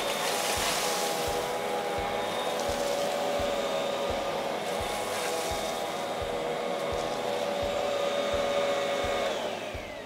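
A Hoover CH53010 Task Vac bagless lightweight vacuum cleaner runs on carpet with a loud steady motor roar and rhythmic thumping strokes, then winds down at the end.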